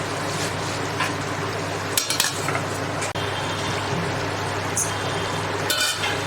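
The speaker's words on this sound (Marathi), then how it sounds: "आता हे बघा झाकण काढून घेतलं आहे" A lid is lifted off a pot of veg korma cooking on the stove, giving a couple of metallic clinks over a steady sizzle and bubbling simmer, close and fairly loud, with no talk.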